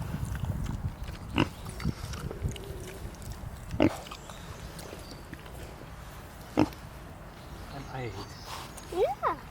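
Pigs at a farm playground grunt and oink in short scattered bursts against a busy outdoor background, with people talking nearby throughout.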